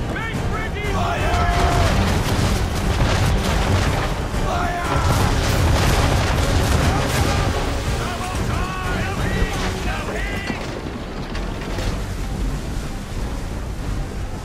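Heavy ship cannons firing a broadside during an Assassin's Creed III naval battle, deep booms rolling over wind and waves, with people shouting over the noise.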